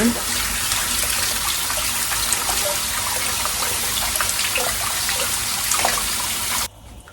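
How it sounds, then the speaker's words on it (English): Running water rinsing cleaned blue crabs, a steady splashing tap stream pouring and trickling close by for several seconds before cutting off abruptly near the end. "And then rinse water."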